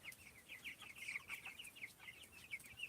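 Faint, continuous clucking from a group of chickens, a rapid chatter of short high calls overlapping throughout.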